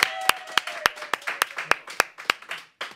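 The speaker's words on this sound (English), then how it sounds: "Round of applause, Pete Wicks." A round of applause at a leaving do, with sharp, close, spaced hand claps ringing out over a murmur of background voices.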